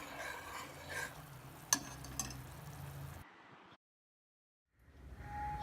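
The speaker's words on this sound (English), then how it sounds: "Now add the jaggery and mix it well." A spoon stirs jaggery into a simmering pot of manathakkali kai kuzhambu, giving a soft bubbling sizzle with scraping and a couple of sharp clinks, then a brief silence before the simmer resumes; nobody speaks.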